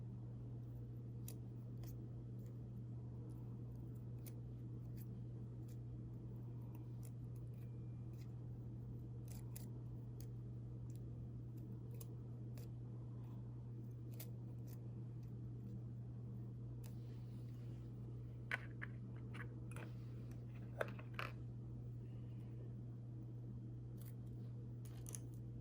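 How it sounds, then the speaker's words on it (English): Precision scissors snip between the petals of a small paper flower: a few faint, sparse cuts, mostly later on, over a steady low room hum. "You're going to take your precision scissors and you're going to cut in between each petal towards the"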